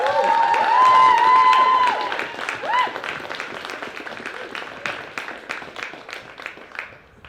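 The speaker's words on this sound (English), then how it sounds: "Can you all give them a round of applause while they get their medals?" A crowd at a university men's premier division football final ceremony applauds as players receive medals, clapping swelling after someone speaks over a loudspeaker and then fading out gradually.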